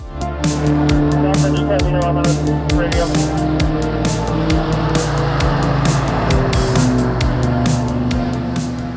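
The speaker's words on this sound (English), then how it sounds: "the RT660s massively changed the handling and corner speed of our otherwise stock Mini Cooper, and Corey was flying" A stock Mini Cooper race car on RT660 tires drones steadily around a track with shifting revs and occasional tire noise, continuous and loud throughout.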